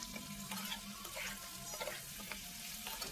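Chicken pieces sautéing in a pan for a Bengali chicken kosha, a steady close sizzle and fry with occasional stirring scrapes, continuous and fairly loud with no voices.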